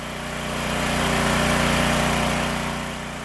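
John Deere engine powering a log splitter, a steady mid-pitched engine drone running continuously at close range with a slight swell in loudness, no voices.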